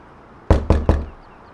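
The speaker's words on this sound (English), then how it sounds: "Let's go have a knock at the door here." Three crisp, evenly spaced knocks on a door in Farming Simulator 19, loud and close against a quiet background, with no talking.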